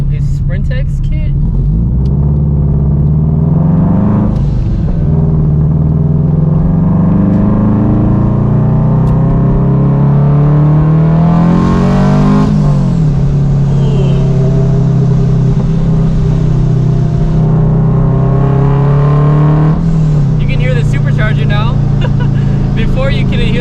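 A Subaru-style FRS sports car with a Sprintex supercharger kit and modified exhaust drones loudly through rising and falling revs, with a sharp hiss of the blow-off valve between pulls and a voice talking over the engine.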